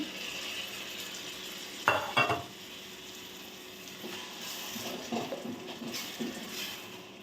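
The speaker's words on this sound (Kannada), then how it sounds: "ನಾನು ಟೊಮೆಟೊ ಪ್ಯೂರಿನ ಹಾಕ್ತಾಯಿದ್ದೀನಿ" A loud splash and burst of sizzling as tomato puree hits hot oil and frying masala, followed by a steady, quieter frying crackle with occasional stirring.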